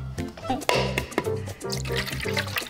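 Water is poured into a bowl of pancake mix in a home kitchen, making a short, close run of splashing and gurgling with a few drips.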